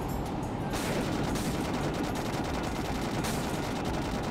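Rapid, dense crashing and popping as boxes are smashed in the video game Sonic Adventure 2, a loud continuous barrage with no pauses and no voices.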